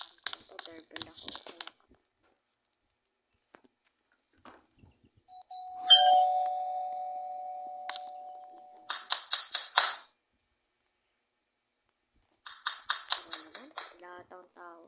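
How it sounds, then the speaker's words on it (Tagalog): A doorbell chimes through a quiet home, a sustained ding-dong tone followed by bursts of brisk knocking or clapping-like taps; brief talk and footsteps occur around it, and the ringing stands clearly above near-silent gaps. "Doorbell ako."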